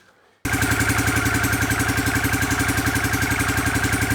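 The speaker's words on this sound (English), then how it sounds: "So I'll move in a bit closer and we'll start the engine." After a moment of near quiet, a Honda CX500 motorcycle engine fires up and settles into a steady, loud, throbbing idle close by.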